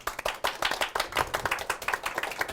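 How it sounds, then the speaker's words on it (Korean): A small studio audience at a career-mentoring session with energy-sector experts claps in welcome, a brisk rhythmic patter of many hands, fairly close and steady throughout with no talking. "자, 박수."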